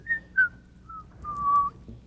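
Vivian, a pool player in a 2006 Albuquerque match, whistles a short tune of several clear, sustained notes with small gaps between them. The whistling is close and moderately loud over a quiet room.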